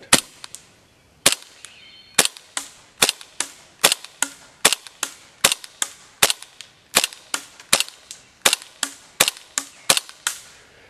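An ASG CZ P-09 Duty airsoft pistol firing .28 BBs from a green gas magazine outdoors, about two dozen sharp cracking pops in a steady, fairly rapid rhythm, loud and close with no talking.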